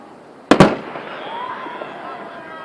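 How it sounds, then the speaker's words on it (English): Fireworks burst at a backyard-style display, two sharp close bangs in quick succession followed by a fading crackle and hiss, with people talking nearby. "I'm trying to watch the fireworks."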